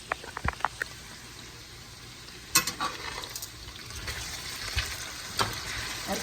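Potatoes and onions fry in a pan as a spatula stirs them, with sharp scraping clicks and bursts of sizzle over a continuous crackling hiss, close up and without talk.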